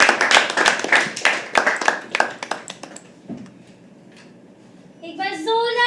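Enthusiastic clapping from an open-mic poetry audience fills the first few seconds, then fades to near silence before a voice begins speaking.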